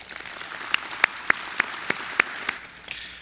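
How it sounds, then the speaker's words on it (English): Steady applause from a conference audience, with sharp individual claps standing out over a dense wash of clapping, fading slightly toward the end. "So can we please give Tian a round of applause?"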